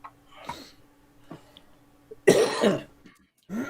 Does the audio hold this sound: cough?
yes